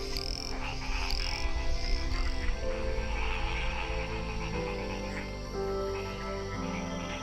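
Tree frogs in Mexico croak together in a dense, overlapping chorus, with crickets chirping underneath and no voices.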